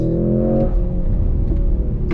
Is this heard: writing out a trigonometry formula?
no